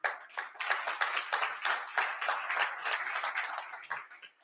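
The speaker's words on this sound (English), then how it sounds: "I will definitely pause for that applause." An audience at a plenary session breaks into applause, a dense, steady wash of many hands clapping close by for several seconds before tapering off near the end.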